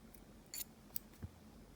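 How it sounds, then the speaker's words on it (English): A pair of quiet, quick snips of scissors trimming a yarn end during crochet work, two short crisp cuts close by against a near-silent room. "so I'm just going to trim that one"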